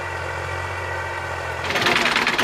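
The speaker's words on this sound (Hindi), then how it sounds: "ये बंदा ट्रैक्टर चलाता हुआ हमारे पास आ रहा है।" A tractor engine rumbles at idle, then swells louder and rougher as the tractor drives closer, the heavy mechanical chugging filling the scene toward the end.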